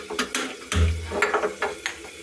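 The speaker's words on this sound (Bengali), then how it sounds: "এখানে জিরে ধনে আর এখানে গরম মশলা এলাচ দুটো তিনটে লবঙ্গ এটা নিয়ে শুকনো খোলায় একটু ভেজে নেব।" Cumin, coriander, cardamom and a few cloves stirred and scraped in a dry pan, giving a run of close, irregular scraping and clattering strokes with one heavier knock, no voices.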